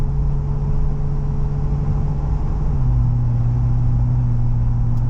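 Jeep Wrangler 3.6L V6 with an MRT axle-back dual-tip exhaust kicks down a gear from overdrive, its steady low engine drone shifting to a higher pitch partway through, loud and close with no talking.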